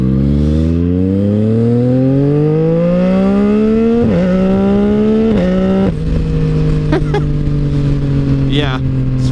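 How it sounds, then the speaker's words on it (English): Motorcycle fitted with a quick shifter accelerating hard through the gears, engine note rising in pitch then dropping abruptly at several crisp upshifts, loud and close with steady wind rush throughout. "you gotta listen to this quick shifter now whenever I get an opening here"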